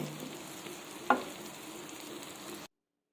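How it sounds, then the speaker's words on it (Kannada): Bangude mackerel fish frying in a pan, a steady soft sizzle with one sharp clatter partway through, then the sound cuts off before the end. "ಒಂದು ಸೈಡ್ ಫ್ರೈ ಆಗಿದೆ ಈಗ ಇನ್ನೊಂದು ಸೈಡ್ ಫ್ರೈ ಮಾಡ್ಕೊಳ್ತಾ ಇದ್ದೇನೆ"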